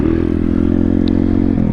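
Pit bike engine running at a steady loud drone during a wheelie, held close with an even pitch that shifts slightly near the end of the brief burst.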